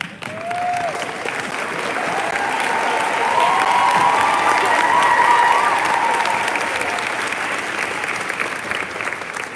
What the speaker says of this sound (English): So please rise so we can applaud you in the back